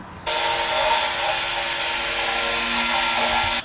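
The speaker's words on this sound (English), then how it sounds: "Now I started actually using the sander" Electric sander stripping paint from a Jeep XJ front bumper down toward bare metal, starting abruptly into a loud, steady grinding whir that runs evenly for about three seconds and then cuts off, close and without speech.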